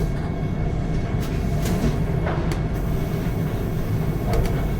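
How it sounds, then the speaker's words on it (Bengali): A Vande Bharat Express train leaving Kharagpur runs with a continuous heavy rumble and rattle. Occasional brief clanks and squeaks rise over the steady roar. "বেশ কিছুক্ষণ দাঁড়ানোর পর খড়গপুর থেকেও ট্রেন ছেড়ে দিয়েছে"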